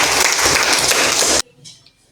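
Classroom applause from students in a teacher-training lesson, a loud, dense wash of clapping that stops abruptly after about a second and a half, leaving faint room noise.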